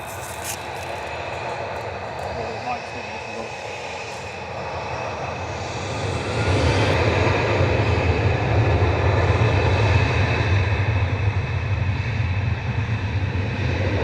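A Boeing 737-800 airliner at Manchester Airport roars steadily, its engine noise swelling louder about halfway through and holding a strong, close rumble to the end, with no talk.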